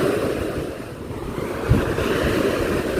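Sea waves surge and wash against the shore during line fishing by the sea, with steady wind buffeting the microphone throughout and a slightly stronger wave crash near the middle; no voices.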